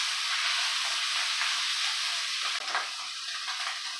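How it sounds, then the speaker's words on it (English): One medium onion and three cloves of garlic fry in a pan with a steady, close sizzle, a continuous crackling hiss with a slight shift partway through as the pan is stirred, and no talk. "I'm going to add 1 medium-sized onion and 3 cloves of garlic to the pan and cook that until the garlic and onions are softened."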